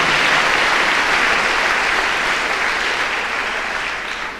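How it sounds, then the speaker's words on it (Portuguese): Church congregation applauding the Lord during a worship program, a continuous broad wash of clapping from many hands, steady and full throughout before easing slightly at the close. "Dê um aplauso ao Senhor"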